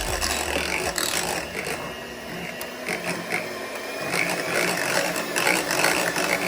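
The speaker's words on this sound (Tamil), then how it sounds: "கொஞ்சம் கொஞ்சமாக பவுடர் சேர்த்துட்டு நம்ம வந்து விப் பண்ணிக்கலாம்" An electric beater whips cream with powdered sugar for an Oreo cream cake, giving a steady, close mechanical whirring and rattling that continues without a break.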